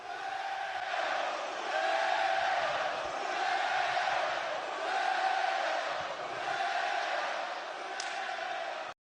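Arena crowd noise from a wrestling event, a sustained roar of massed voices with chanting swells, played back from a recording at steady moderate level throughout.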